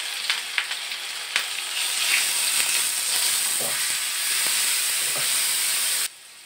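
Garlic paste and turmeric fry in a pan over a medium flame, making a steady, close sizzling hiss with occasional faint scrapes of stirring, no voices, until the sound drops away abruptly near the end.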